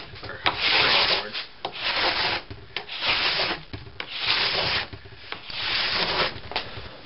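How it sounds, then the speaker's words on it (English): A large scraper drags wax off a snowboard base in repeated rasping strokes, a steady rhythm of close, gritty scrapes with short pauses between passes. "now that I took a bulk of the wax off with this large scraper"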